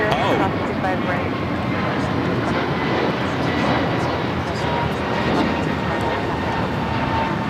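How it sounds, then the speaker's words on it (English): An American Airlines Airbus A321neo, flight 658 to Miami, takes off at LAX with a loud, sustained engine roar that holds steady throughout, while people talk nearby. "This is American Airlines 658 taking off to Miami on the A321neo"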